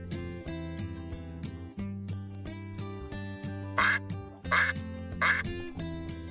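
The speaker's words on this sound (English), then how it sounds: "A duck makes that sound." Three loud, distinct duck quacks ring out near the close over a steady backing of instrumental music, with no other voices present.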